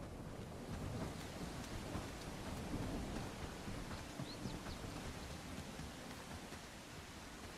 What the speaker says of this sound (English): This rain is driving me nuts.